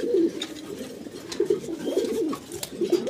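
Pigeons coo in a loft holding a chocolate-coloured breeding pair, with repeated soft, throaty coos rolling in close and clear, one after another with no talk over them.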